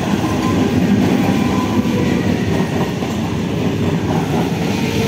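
A train runs through Balagarh station on the Howrah-Katwa line, loud and close, with a steady heavy rumble and rhythmic clickety-clack of wheels over rail joints, no voices.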